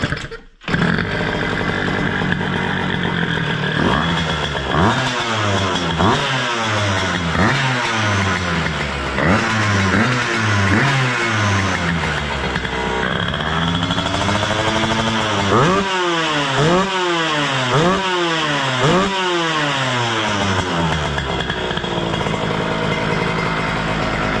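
A restored Derbi 50cc two-stroke moped engine, already warm, runs steadily and is blipped through repeated sharp revs, a rising-and-falling buzzy whine close to the mic with no talking.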